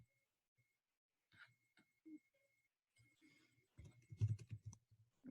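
Keys tapped on a computer keyboard while a file name is entered, starting with scattered quiet clicks and building to a denser, louder burst of typing near the end, close by in an otherwise quiet room.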